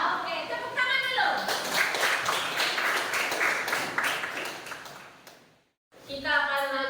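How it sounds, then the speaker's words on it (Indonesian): Schoolchildren in a fourth-grade classroom clap together in a sustained burst of rhythmic applause lasting several seconds, with voices before and after. "Oke, tepuk tangan dulu."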